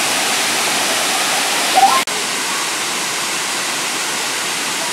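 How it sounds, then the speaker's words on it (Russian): A steady roar of falling water from a large waterfall at Deep Creek, loud and constant, with a brief click partway through. "Waterfall."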